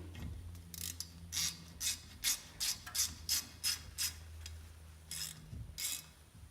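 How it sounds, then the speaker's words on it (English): A hand ratchet clicks in about a dozen rhythmic bursts as bolts are tightened during brake servicing, close and distinct over a low steady hum, with no talking. "it's ideal to have the ratchet ready and on the right setting for tightening, not loosen."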